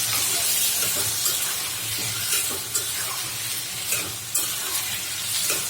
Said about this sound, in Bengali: আমি কচুরমুখীটা দিয়ে দেবো এখানে কষাতে